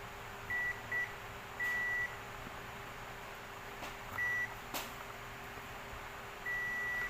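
A multimeter beeps in short tones while BD139 and BD140 transistors from a 150-watt OCL power amplifier are tested, with brief bursts and longer held tones spread unevenly over a quiet, slightly noisy background.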